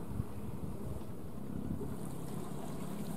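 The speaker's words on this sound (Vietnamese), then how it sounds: "Đây thêm một chiếc ghe lưới của Ninh Thuận nữa, cũng đang chạy về chuẩn bị neo đậu trú gió" A Ninh Thuận net fishing boat heads back to anchor to shelter from the wind, a steady low rumble mixed with gusting wind and lapping waves, with no voices.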